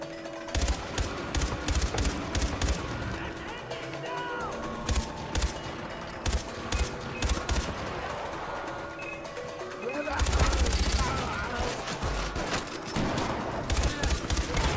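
Gunfire and explosions in the video game Far Cry 4 during an attack on a checkpoint, with dense rapid bursts and sharp shots continuing throughout and a heavier, louder blast roughly two-thirds of the way in.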